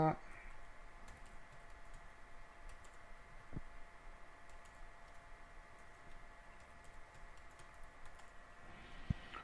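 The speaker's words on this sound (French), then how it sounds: "donc là on va taper donc le mot de passe." A password is typed on a computer keyboard, soft quiet keystrokes tapping in short irregular bursts over faint room hiss.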